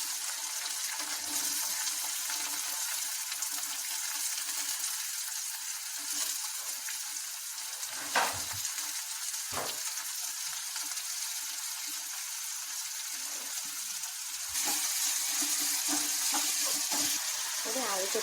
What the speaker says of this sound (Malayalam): ഇനി വെളിച്ചെണ്ണ ചൂടായതിനു ശേഷം ഒരു ഏലക്ക, ഒരു ലവംഗു, ഒരു പട്ട, ഇനി വെളുത്തുള്ളി ഇഞ്ചി ചതച്ചത് അതിലേക്ക് ഇട്ടിട്ടുണ്ട്